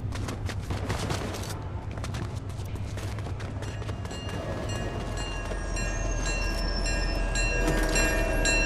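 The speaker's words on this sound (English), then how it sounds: "get ready to get on the train" A train rolls past in the Fortnite video game, a steady loud rumble with rail clatter that swells slightly toward the end, over faint background game sounds.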